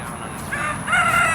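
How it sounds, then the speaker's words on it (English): A neighbor's rooster crows outdoors on a hot, humid Louisiana day, one drawn-out cock-a-doodle-doo rising over steady background ambience at moderate distance. "the neighbors' chickens and roosters are out and about eating bugs after I mowed yesterday"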